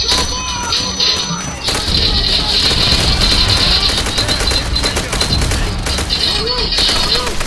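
Loud, dense automatic gunfire and scattered shots in a co-op match of the video game Call of Duty, nearly continuous and close, with occasional heavier thumps and a voice speaking over the fighting.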